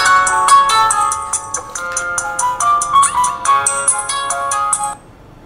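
A thin credit-card-sized cellphone powers on with a loud, bright electronic startup ringtone, a quick run of melodic beeping notes for about five seconds that then cuts off to near silence.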